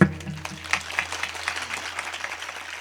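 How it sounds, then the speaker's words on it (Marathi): An audience claps in scattered bursts during a humorous kirtan, a loose ripple of applause following spoken lines before it fades into a lighter patter. "तुम्ही बघितलं का टाळ्या कुठं वाजल्या फक्त"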